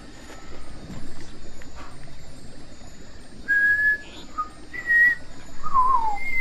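A person whistles a few short, clear notes, some held briefly and one sliding downward, spaced out over faint background noise.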